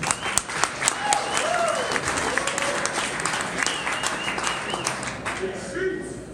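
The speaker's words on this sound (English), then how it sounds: "Please give a huge round of applause to AC." An audience at a tech networking event applauds a presenter with sustained, dense clapping that carries through the whole stretch. Scattered cheers and crowd voices mix in, and the clapping thins slightly toward the end.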